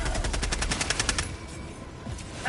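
A sentry turret's machine gun in the Helldivers 2 video game fires a rapid, evenly spaced burst of loud shots, then stops and leaves a quieter, rumbling battlefield background.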